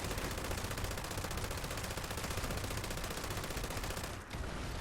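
A quad fire rate light machine gun in the video game Fallout 76 unloads in one relentless, dense stream of extremely rapid shots, loud and close, with a brief dip near the end before firing continues.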